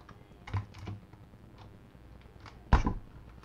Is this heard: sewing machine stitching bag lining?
no